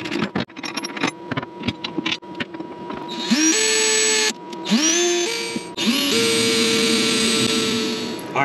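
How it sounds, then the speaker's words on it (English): A power drill boring holes for bed stiffeners in a 2022 truck bed, starting after some handling clatter, then three sustained high whining runs that rise as the motor spins up, loud and close, with no talk. "drill the other 2 holes, and we're good to go."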